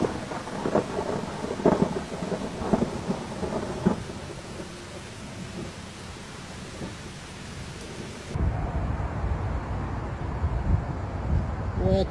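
Thunder rumbles through a heavy rainstorm in downtown Atlanta, where lightning struck the Bank of America tower, with several deep booms in the first half and steady rain and wind noise throughout, growing louder near the end.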